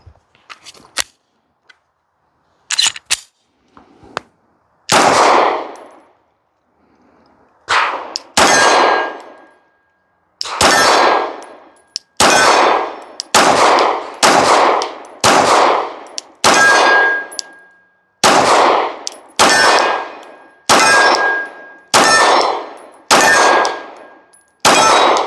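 A Glock 19 fitted with a PSA Sabre slide fires CCI Blazer 124 grain FMJ rounds outdoors: loud sharp close shots, a few spaced apart at first, then a rapid regular string of about a dozen reports, each ringing briefly.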